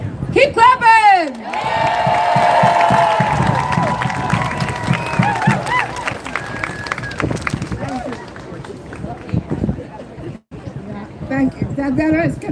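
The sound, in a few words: crowd clapping and cheering at rally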